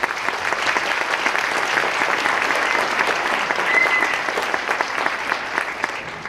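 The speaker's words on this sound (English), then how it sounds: "give yourselves a round of applause" A large audience applauds at a combined high school winter concert, a steady wash of many hands clapping in a hall, sustained evenly at moderate loudness with no talking over it.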